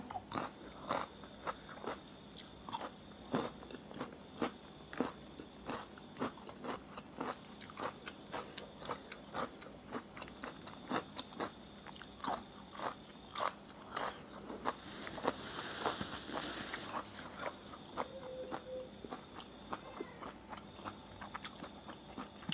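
Crunchy dry food bitten and chewed close to the mic at a spicy Isan-style meal, a steady run of crisp cracking bites and chewing crackles with no talking.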